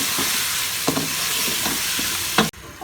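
Meat with spices and chopped tomatoes sizzling loudly in a hot pot while a spoon stirs and scrapes through it in several strokes, close and steady, cutting off abruptly near the end.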